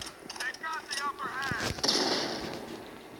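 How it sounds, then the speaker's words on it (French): Grenade blast and gunfire in the mobile shooter Modern Combat 5, a sharp burst near the middle with hissing debris after it, set among scattered shots; a player talks and exclaims close over the noise. "C'est qui m'a lancé une grenade?"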